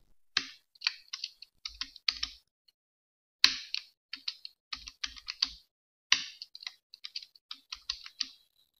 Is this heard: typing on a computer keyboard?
yes